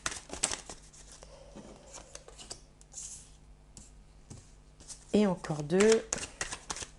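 Tarot cards being drawn and laid out on a table, with soft shuffles, flicks and card slaps scattered under someone speaking in French.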